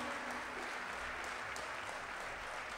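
Sustained clapping from a festival crowd at the Fiesta Nacional de la Manzana, broad and continuous, with a faint held tone underneath.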